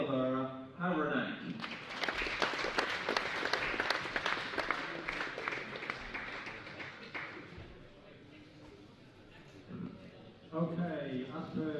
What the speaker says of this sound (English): We're looking for a louder clapping from now on.